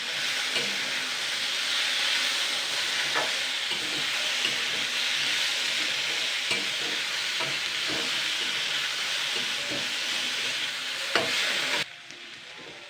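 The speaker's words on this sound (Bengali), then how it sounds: "এবার আমি সবগুলোকে একসঙ্গে আগে দুই মিনিট মত দুই থেকে তিন মিনিট ভাজা করে নেব" Cauliflower stalks frying in a pan with turmeric and sugar give a steady, close sizzle and hiss, with occasional spatula clicks from stirring, and no voices over it.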